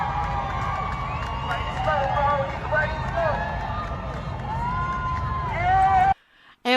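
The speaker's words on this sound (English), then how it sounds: "It was the cheering and everything just to see his motorcade go by." Crowd lining a California street cheering as Trump's motorcade passes, a sustained roar of whoops and shouts from many people, loud and continuous before cutting off abruptly near the end.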